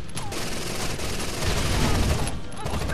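Enemy gunfire in the shooter game Rainbow Six: Vegas 2 crackles as dense, overlapping automatic bursts and volleys, steady and moderately loud for three seconds.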